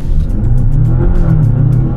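A Mazda CX-80 PHEV Kuro Edition all-wheel-drive SUV pulls away on its electric motor, giving a steady, loud low drone and hum that holds evenly through the short run, with no speech.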